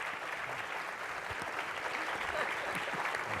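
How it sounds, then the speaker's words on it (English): An audience at a forum on moving beyond stigma claps for the panel, a dense, steady roar of applause throughout with no pauses. "Please give them a round of applause to begin with."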